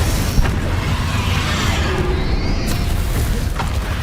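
Confringo fire spell blast in the game Hogwarts Legacy, a loud, dense rumbling roar sustained for several seconds with a sharp crack near the start, close and heavy.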